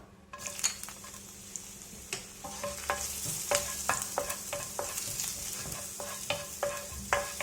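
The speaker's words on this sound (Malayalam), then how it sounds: "ഇതിലേക്ക് നമ്മൾ ചെറുതായിട്ട് കട്ട് ചെയ്ത് വെച്ചിരിക്കുന്ന ഇഞ്ചി ചേർക്കാം." Chopped ginger sizzles in coconut oil in a pan, quiet and close, with a steady frying hiss broken by repeated clinks and scrapes of a spoon stirring against the metal.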